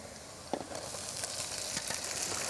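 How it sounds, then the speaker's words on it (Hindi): Onions and lunak sizzling in a pan during a traditional moong dal and vegetable recipe, a soft steady fry with a few louder stirring clicks, no talk. "और आपने इसको फ्राई करना है।"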